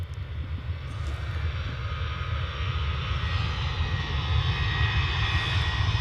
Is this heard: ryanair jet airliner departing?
yes